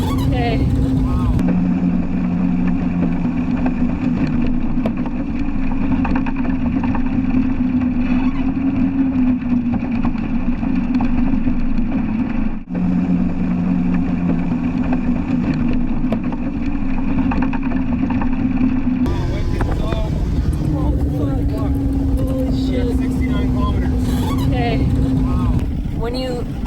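An outboard motorboat fitted with a hydrofoil runs flat out on the water, its engine droning loud and steady with wind and water rush. Voices talk over it at times.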